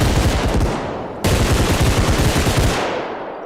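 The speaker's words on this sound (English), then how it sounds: "Sounded like I was getting shot from over here." Sustained automatic gunfire in a first-person shooter game, loud and continuous with rapid bursts, briefly cut off before resuming and then tailing away.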